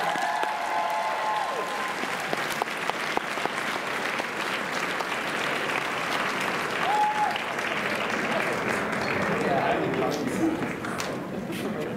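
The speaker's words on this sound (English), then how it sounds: "Give them a round of applause." An audience at a cosplay contest claps and cheers as cosplayers are called up to the stage, a sustained crowd applause with scattered shouts and a voice over the hall, lasting throughout.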